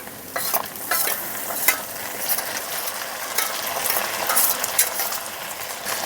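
Ground ginger and dried red chili paste sizzle hard in a pan with a fried katla fish head, cooking for a moong dal. Close, continuous spatter and rapid scraping stir strokes play without any voices.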